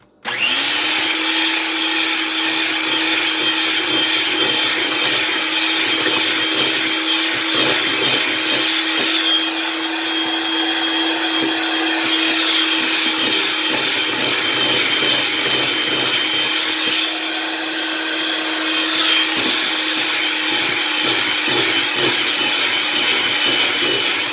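An electric mixer beats dry ingredients into fudge brownie batter. The motor gives a steady, loud whir that runs close and continuous, with slight changes in pitch as the beaters work through the thick mixture.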